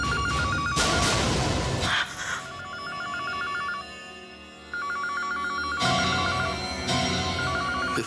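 A telephone rings with a repeating electronic trill in short bursts, loud and close, against a dramatic music bed in a Hindi TV serial scene.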